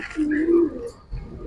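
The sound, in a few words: pigeon cooing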